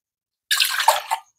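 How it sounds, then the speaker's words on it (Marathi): Water poured into a small bowl to measure one cup for idli batter, heard as a single splashy pour lasting under a second, close and fairly loud, with no talking. "1 वाटी पिठासाठी आपण आता 1 वाटी पाणी घेणार आहोत कोमट करून"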